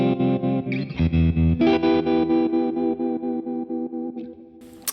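Electric guitar played through a Boss Katana amp with the tremolo effect turned up to 100 on a square wave, giving loud, choppy on-off pulsing of sustained distorted chords, no talking.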